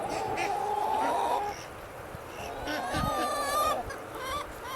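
Chickens clucking and calling in a homestead chicken yard, a steady outdoor chorus at moderate distance with a few louder squawks rising over a constant background hum.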